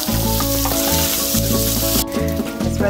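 Bacon frying in a pan for Brazilian farofa, a loud, dense sizzle close up, with tonal background music running underneath.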